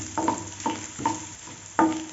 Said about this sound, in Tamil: கொஞ்சம் இஞ்சி, இதையும் சேர்த்து நல்லா வதக்கி விடுங்க